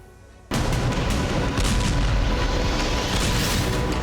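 Heavy bombardment in Lebanon by Israeli forces: a loud blast erupts abruptly and becomes a sustained, dense rumble of explosions and booms that continues to the end.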